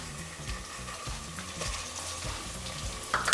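Quarter kilo of mutton sizzling and frying in a pan over fried onions for Kashmiri-style rogan josh, a steady close crackle with occasional stirring clinks and a louder burst at the end.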